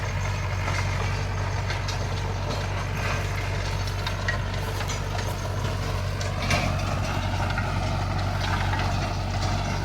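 Tractor ploughing a field, a loud steady low engine drone with a constant rumbling hum and faint mechanical clatter throughout.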